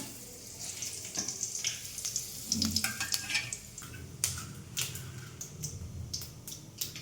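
Whole spices, including cinnamon, frying in hot oil in a home kitchen pan give a steady close sizzle and crackle with occasional stirring clinks and scrapes throughout.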